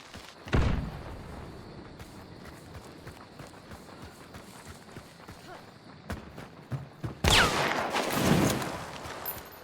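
Gunfire from the Hunt: Showdown video game, with a loud shot early on and a heavy burst of firing near the end, over footsteps and ambient rustling. There is no talking.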